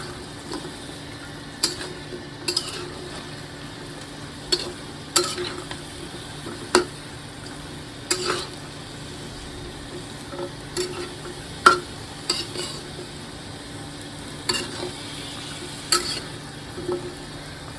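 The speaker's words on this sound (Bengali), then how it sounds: "এখন একটু ভালোভাবে কষাই নিই।" Pulao rice sautéed with green chillies in a pan, heard as a quiet, steady low sizzle with irregular scraping and clinking stirs every second or two, no voices.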